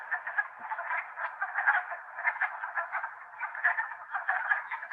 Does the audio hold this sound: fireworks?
no